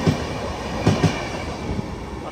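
A diesel-hauled express train bound for Mumbai speeds past through a station at night, a steady close rumble punctuated by a few sharp clacks of wheels over rail joints.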